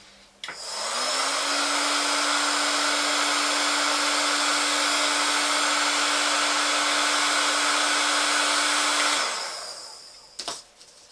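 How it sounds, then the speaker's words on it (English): Heat gun shrinking heat shrink tubing over wire tags during a GPS kit build: a loud steady electric blower whine starts abruptly, holds for about eight seconds, then winds down and clicks off. "all we're going to do is we're going to heat shrink that tubing"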